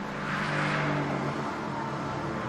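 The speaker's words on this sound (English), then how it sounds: "Make a lot of noise while sliding through a cloud of its own tyre smoke." A Mercedes-AMG GT R coupe sliding sideways through its own tyre smoke, its engine revving loud and close in a steady, strained roar mixed with a hissing rush of tyre noise.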